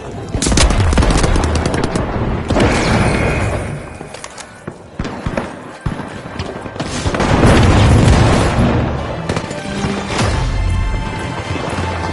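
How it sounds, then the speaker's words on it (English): In a multiplayer shooter video game, a gas grenade goes off amid dense, loud gunfire. Rapid bursts and booms come in two heavy waves with a brief lull between them. "Outgoing gas grenade!"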